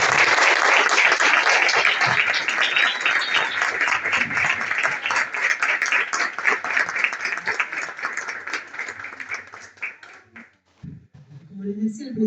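An audience at a science happy hour event in Iguazú breaks into sustained applause, dense steady clapping that gradually thins and fades out near the end.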